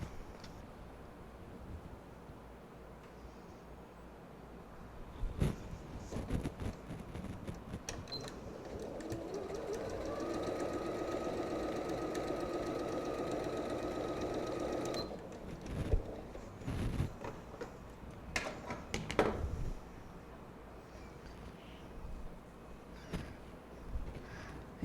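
Sewing machine running steadily for about ten seconds as it stitches fabric pieces one at a time, with fabric-handling clicks and rustles before and after.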